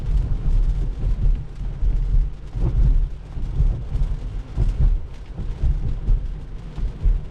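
Heavy rain pounds a Tesla during a drive, a loud continuous roar with deep rumbling swells throughout and no voices.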